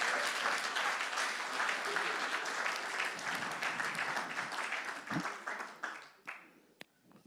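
A church congregation applauds in dense, sustained clapping during a sermon on family, with the applause thinning out toward the end into a few scattered claps.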